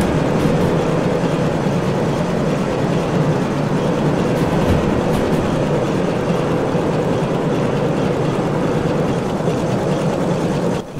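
A train runs through a tunnel in the railway game Derail Valley, a steady loud engine drone and rumble of rolling wagons that holds continuously for about eleven seconds, with no talking.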